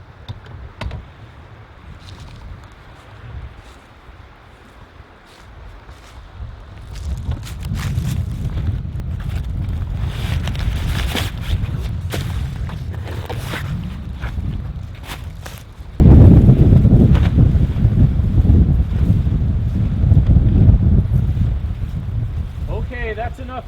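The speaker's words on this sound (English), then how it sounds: "Oh my God, look at the wind." Strong wind gusts roaring across a hammock campsite ahead of a thunderstorm, building from moderate to loud buffeting with a sudden heavier blast late on, while a person talks over it.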